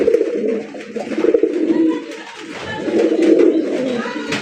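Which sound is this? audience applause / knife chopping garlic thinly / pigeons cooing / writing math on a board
pigeons cooing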